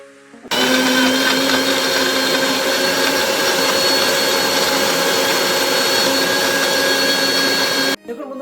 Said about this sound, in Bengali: মিক্সিং জারে খুব ভালো মতো করে ব্লেন্ড করে নিই